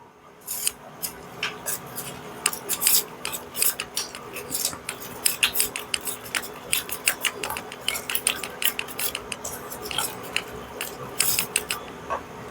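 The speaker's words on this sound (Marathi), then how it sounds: "तर आपण हे फेटून घेऊया" A biryani masala mixture with turmeric is whisked briskly in a bowl, giving rapid, close metallic clicks and scrapes in a quick uneven rhythm with no speech.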